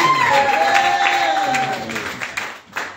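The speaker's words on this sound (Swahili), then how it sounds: "pigia yesu makofi mazuri" A church congregation claps together in a dense, steady wash of applause that fades slightly toward the end, with a voice speaking over it.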